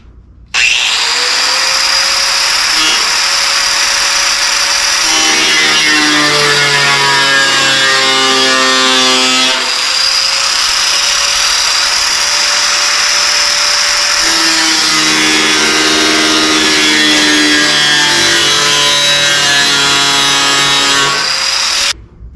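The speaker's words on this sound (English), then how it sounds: "So we're using our grinder with a thin blade." An angle grinder fitted with a thin cut-off blade slices through rusty sheet metal for Camaro fender repair, a loud continuous whine with rising and falling pitch as the blade bogs and recovers, heard in two long cuts with no talking.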